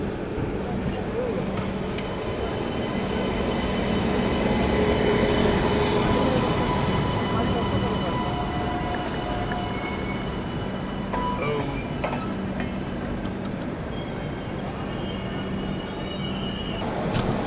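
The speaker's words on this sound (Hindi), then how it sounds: "और ये रही दोस्तों गया नई दिल्ली महाबोधि एक्सप्रेस।" Indian express trains at a busy station, including the New Delhi–Gaya Mahabodhi Express, roll past with a continuous loud rumble of wheels and carriages, faint squeals and horn tones, while someone talks over the noise.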